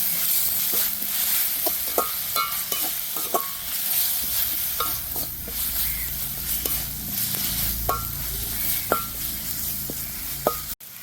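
Ginger garlic paste fries in a pan for a Sri Lankan village-style prawn curry under a constant close sizzle, punctuated by about a dozen sharp clinks of a spoon stirring against the pan.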